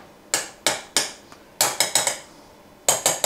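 A spoon striking a glass while making a no-bake orange cheesecake: a series of bright, ringing clinks in uneven clusters, three spaced hits, then a quick run of four, then a final trio, close and fairly loud.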